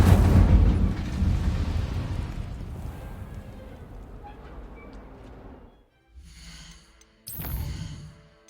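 Incendio fire spell cast in Hogwarts Legacy, a loud burst of roaring flame that slowly dies away, followed by two short bright magical chimes.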